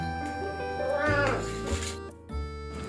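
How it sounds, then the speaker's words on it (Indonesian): Two pet cats meowing early in the morning at home before being fed, a drawn-out meow near the middle of the clip heard over background music and some low rumbling. "sebelum masak aku mau ngasih makan kucing-kucing aku dulu"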